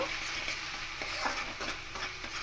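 Spiced potatoes with salt are stirred in a pan for a vegetarian aloo dum. Soft, quick spatula scrapes sound close over a faint sizzle in a brief, quiet stretch.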